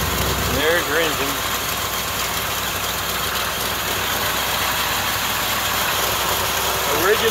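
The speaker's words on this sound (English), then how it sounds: "And there's your engine." The engine of a 1971 Corvette idles steadily with a constant low rumble and vibration, running close by throughout with no change in pace.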